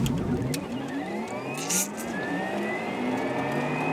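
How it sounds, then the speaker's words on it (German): A Porsche Taycan electric car on the Hockenheim race track launches under launch control, its motor whine climbing steadily in pitch over a few seconds of hard acceleration, heard from inside the cabin with no talking. "So, wir testen die Launch Control."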